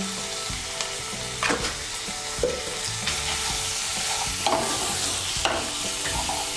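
Spice paste of chopped tomato and ground turmeric frying in a pan with a steady sizzle, broken by several scraping stirs of a spoon, close and moderately loud.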